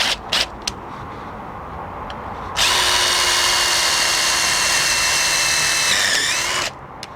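A cordless impact driver runs a 10-32 screw into an electrical box, a few brief taps first, then a loud sustained whirring drive for about four seconds that stops abruptly, heard close up.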